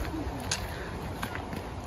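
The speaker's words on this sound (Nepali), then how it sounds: "हेर्नुहोस् चराहरू." Birds call in the jungle with a few faint, soft cooing notes, distant and partly buried under steady background hiss.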